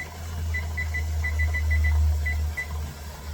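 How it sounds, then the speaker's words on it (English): A thin, high electronic beeping repeats in quick pulses, with a brief pause before a few more. A loud low rumbling hum runs underneath. "and I turn on my timer"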